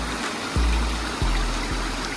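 Creek water on a waterfall hiking trail flows in a steady rushing wash, close and continuous, with a few low thumps cutting in, and no voices.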